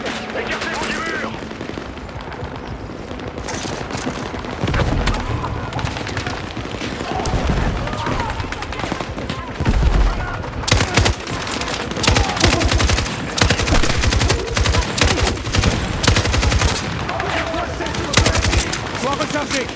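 Sustained gunfire in a Battlefield 6 campaign battle, rapid automatic bursts and fusillades growing denser and louder after the midpoint, with a voice speaking over the combat.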